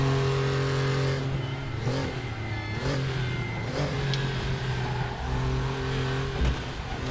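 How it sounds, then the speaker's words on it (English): A six-cylinder racing car engine in the RaceRoom game, droning steadily with its pitch rising and falling through gear changes, close and continuous from start to finish, with a bump near the end. "6-cylinder engine behind me"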